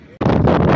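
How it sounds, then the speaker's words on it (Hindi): Strong wind buffets the microphone outdoors, a sudden loud broadband roar that starts abruptly and continues steadily, drowning other sound. "हवा चल रही"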